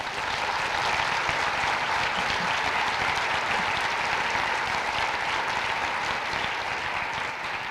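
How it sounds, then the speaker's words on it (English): Sustained applause from a large crowd at a Teacher of the Year awards ceremony, dense and steady clapping that fills the whole stretch without pause. "Let's give her a round of applause, Emma Moss."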